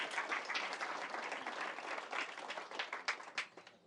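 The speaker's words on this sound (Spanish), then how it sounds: "Fuertes aplausos" Loud applause from a church congregation during a sermon: dense, sustained clapping that fills the space, growing more uneven and thinning toward the end.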